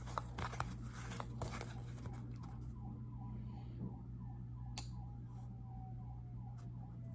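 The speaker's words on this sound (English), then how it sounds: "I don't know if you guys can hear those sirens." Faint wailing sirens in the distance, rising and falling over a steady low hum and some rustling nearby.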